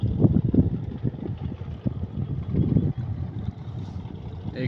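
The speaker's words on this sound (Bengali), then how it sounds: "এই যে এমবি ডেল্টা জাহাজটি ঢাকা থেকে আসছে গ্যাস নেওয়ার জন্য।" The cargo ship MB Delta, arriving from Dhaka to load gas, sits at Mongla port. A low, rumbling engine drone pulses unevenly with wind buffeting the microphone, at moderate loudness.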